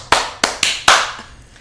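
Four sharp hand claps ring out close and loud in an uneven rhythm, each followed by a short room echo.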